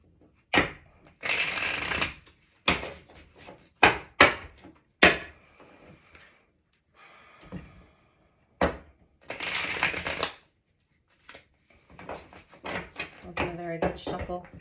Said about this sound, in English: Wasn't a very good shuffle.